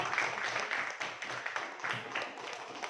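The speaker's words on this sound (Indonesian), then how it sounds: "Tepuk tangan untuk kelompok Nyadin." Fourth-grade pupils in a classroom clap steadily for a student group, a continuous, moderately quiet patter of many hands.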